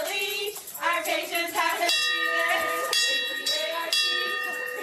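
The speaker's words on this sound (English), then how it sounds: "Ringing that end of treatment bell was the best feeling I ever felt." A hospital end-of-treatment bell rings in several bright, sustained strikes that overlap and decay, with cheering voices in the background.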